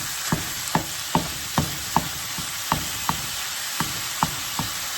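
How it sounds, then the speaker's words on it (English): Ground turkey browns in a pan with a steady low sizzle, punctuated by regular, evenly spaced scrapes and taps of a spatula chopping and stirring the meat, close and clear with no talking. "Your ground turkey will be browning, okay?"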